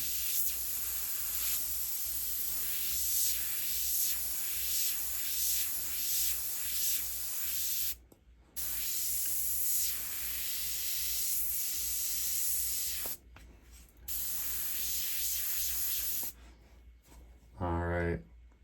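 An Iwata Takumi Custom Micron airbrush sprays unreduced paint in a loud, steady hiss, cut off briefly several times as the trigger is released, with a short burst of talking near the end.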